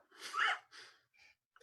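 A close, breathy sneeze bursts out, followed by a couple of softer sniffs and breaths.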